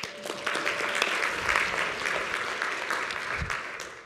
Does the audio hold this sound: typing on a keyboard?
no